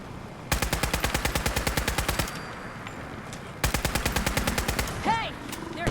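Rapid automatic gunfire in the video game Fallout 4, two long sustained bursts of evenly spaced shots, loud and close, separated by a brief pause, with a short voiced shout near the end.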